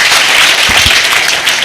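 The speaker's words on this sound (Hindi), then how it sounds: "ताली बजाइए" An audience claps in a dense, continuous burst of applause, loud and close, filling the whole short stretch without pause.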